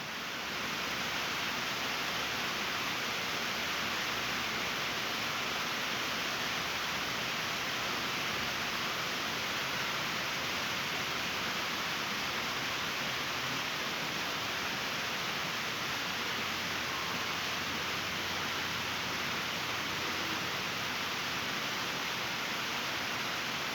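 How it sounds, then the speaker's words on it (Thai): Steady, dense broadband hiss of heavy rain pouring continuously, loud and even throughout with no voices. "เสียงดังนะครับ เสียงฝนตกในซีนะขออภัยด้วยนะครับ ฝนตกพายุเข้าช่วงนี้"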